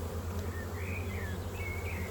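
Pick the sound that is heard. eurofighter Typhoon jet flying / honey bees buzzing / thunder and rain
honey bees buzzing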